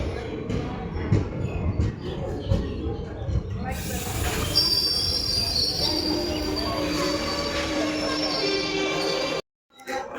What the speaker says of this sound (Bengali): তো এটা 1 নম্বর থেকে লালগোলা যাওয়ার গাড়ি।